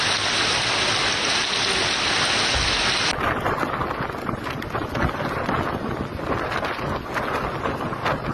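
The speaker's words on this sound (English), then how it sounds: "Heavy rains in places." Heavy rain falls during a violent windstorm in Turkey as a dense, loud, continuous roar of water and gusting wind buffets the microphone close by, with no voices heard.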